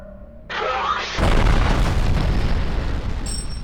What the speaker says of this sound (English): My absolute favorite is being able to shoot grenades out of the enemy's hands if you manage to catch them.